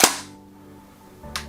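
A Tokyo Marui MP7A1 airsoft electric gun fires a single semi-auto shot, a sharp close snap at the start with a brief mechanical whir trailing off, followed by a second quieter click near the end.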